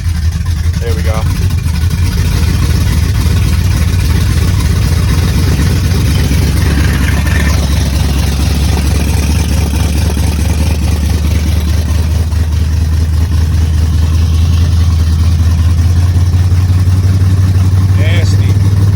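A Ford Galaxie muscle car with headers, full 3-inch exhaust and Flowmaster Super 10 mufflers idles while warming up, a loud, deep, steady rumble close by for the whole stretch, with no clear talk over it.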